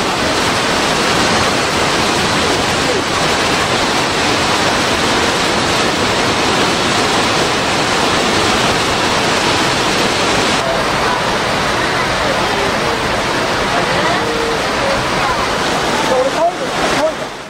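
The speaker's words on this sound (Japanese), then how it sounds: "ここ常連の滝に寄ることにします" Joren Falls on the Izu Peninsula roars as a loud, continuous rush of falling water, heard from close by near the plunge pool. The torrent stays steady throughout and eases slightly at the very end.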